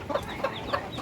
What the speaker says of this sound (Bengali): এই যে মা মুরগিটা কিন্তু চলে এসেছে, এখন বাচ্চারা সবাই মিলে খাবে।